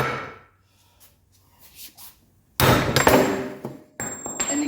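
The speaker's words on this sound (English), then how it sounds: "the way to get those out is with a 5-pound sledge and a slug." A 5-pound sledgehammer strikes a slug to drive a pressed-in ball joint out of a 1985 Mercedes 300D: after a quiet stretch, two loud, sharp metallic blows land close by, each ringing briefly.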